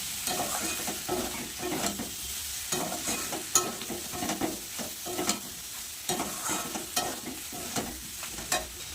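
Soybean and potato curry with fresh coriander leaves being stirred in a pan, with repeated spoon scrapes and soft knocks in an uneven rhythm over a low, steady sizzle, close by.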